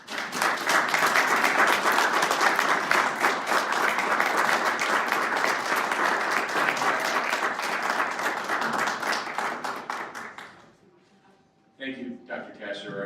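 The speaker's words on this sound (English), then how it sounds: "So please, a round of applause." Sustained applause from an audience at a university event celebrating a partnership with Wells Fargo and a school district, loud dense clapping for about ten seconds that fades out, then a speaker begins talking.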